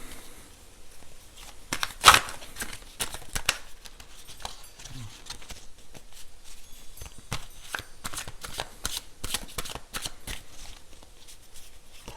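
Tarot cards are shuffled and riffled by hand up close, making repeated crisp flicks and papery slides, with one louder snap early on and quiet pauses between bursts.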